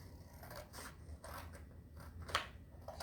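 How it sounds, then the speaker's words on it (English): Scissors cut paper shapes for art-project decorations, a few soft snipping and rubbing strokes close by in a quiet room, with one sharper snip near the end. "I'm just going to cut out these"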